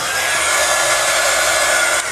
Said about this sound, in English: Just be careful with the hot gun when you're working with that stuff